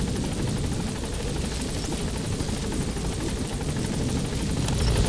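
A helicopter in the video game Metal Gear Solid V: The Phantom Pain gives a continuous loud, close rotor roar with fast rhythmic chopping throughout, and no one talks.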